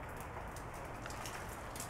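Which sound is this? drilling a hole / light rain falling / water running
light rain falling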